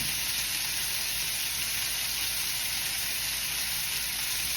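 Filet mignon sears in a pan, giving off a dense, steady, close hiss of sizzling fat that holds at an even level throughout, with no talking.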